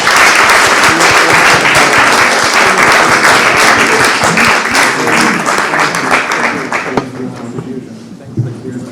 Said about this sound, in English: Please join me in applauding our speakers.